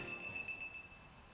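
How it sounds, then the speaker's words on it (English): Watches give off a series of rapid high-pitched electronic beeps in the video game Project: Eden's Garden, with a thin ringing tone pulsing quickly and then trailing off, faint and alone. "His words were interrupted by an unexpected series of high-pitched beeps"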